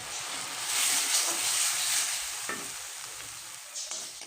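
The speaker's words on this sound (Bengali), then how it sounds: "তো ভালোভাবে মশলাটাকে একটু কষিয়ে নিচ্ছি" Spice paste stir-fried in oil in a pan for a cauliflower curry, a steady close sizzle with scraping stirs and a sharp clack near the middle, no talking.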